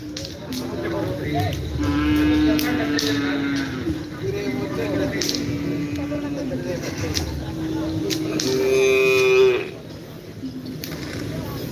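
Cattle at a bull race (karapan sapi) field at Asemanis, with lowing moos and animal calls in a noisy outdoor crowd, voices talking throughout and a louder swell of sound near the end.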